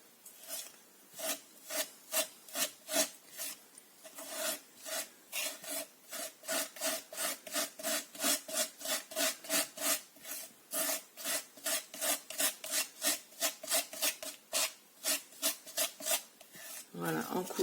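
A plastic loyalty card spreads and smooths thick texture paste in a rapid run of regular rasping scrapes, about two per second, close and steady throughout.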